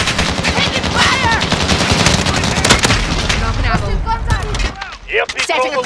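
Rapid machine-gun bursts and scattered gunshots crackle nonstop through a Call of Duty: Modern Warfare firefight set near a tire shop, loud and dense, with shouted voices over the shooting.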